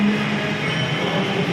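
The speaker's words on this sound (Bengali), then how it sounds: "ট্রেন এখন এখান থেকে নোয়াপাড়ায় যাচ্ছে।" A metro train passes through a station, a steady close rumble with a low drone and broadband rush, even and loud throughout the short stretch, with no voices.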